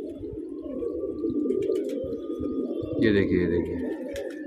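Pigeon cooing close by with a low throaty rumble, swelling louder near the end, while someone talks over it throughout.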